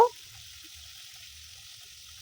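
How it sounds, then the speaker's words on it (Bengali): Several pieces of fish fry slowly in a pan, giving a steady, close, even sizzling hiss that carries on without a break, with a brief clack at the very start and soft low bumps underneath; no one speaks. "এভাবে করে সব মাছগুলো আস্তে আস্তে ভেজে নেব"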